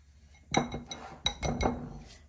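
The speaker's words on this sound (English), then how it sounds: "We're gonna give this a really good stir." Whole black peppercorns being stirred in a bowl with a spoon while preparing a homemade bacon cure. A few sharp clinks and rattles land close and clear in a quick cluster, with no talking.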